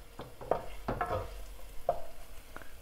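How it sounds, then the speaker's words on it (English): Boiled eggs with salt and chili powder are stirred in a pan, making a few scraping, clattering strokes over a faint sizzle, close by and irregular. "Stirring it."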